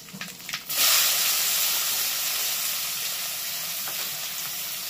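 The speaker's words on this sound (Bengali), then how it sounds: "এবার এই তেলের মধ্যে দিয়ে দিচ্ছি একটা বড় সাইজের পেঁয়াজ" A large chopped onion dropped into hot oil, bursting into a loud, close sizzle after a brief clatter, then settling into a steady hiss of frying that slowly fades slightly.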